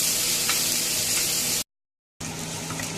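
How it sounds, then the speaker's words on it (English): Onions frying and being stirred in a pan until golden brown, a steady close hissing sizzle that cuts out for about half a second before resuming. "Stir your onion until they are very golden brown."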